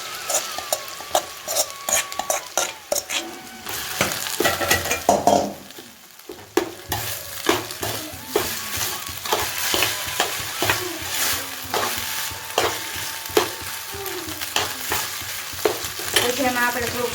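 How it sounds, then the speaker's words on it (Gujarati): Rice being stirred into spiced masala in a hot pan for vagharela bhaat, with steady sizzling and frying under repeated scraping and clinking strokes of a spoon against the pan, close and fairly loud, continuing throughout. "આ મસાલો પછી એમાં આપણે ભાત એડ કરી દઈશું."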